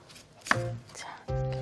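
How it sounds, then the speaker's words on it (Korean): A kitchen knife slicing potatoes into thick strips for potato kalguksu, two crisp chops on a cutting board, close and quiet. "약간 두꺼운 채로 썬다 생각하고 썰어주세요"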